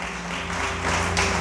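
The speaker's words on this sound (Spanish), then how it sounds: "Dale ese aplauso al Rey" Audience applause during a Spanish-language church service, a dense wash of clapping that swells slightly toward the end, heard alone without talk.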